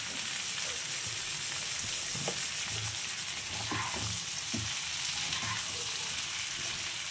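Chunks of ridge gourd fry in hot oil in a pan for a mung dal and water spinach dish, giving a steady close crackling sizzle throughout with soft scraping of stirring and no talk.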